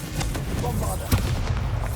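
Bombarda explosion spell going off in Hogwarts Legacy, a sharp booming blast amid a busy stretch of smaller impacts, with a voice speaking over the action.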